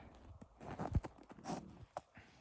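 Work horses' hooves clip-clop faintly in an uneven, scattered series of soft hoof strikes on the ground.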